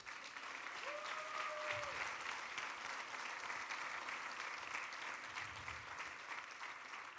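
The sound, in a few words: church congregation applauding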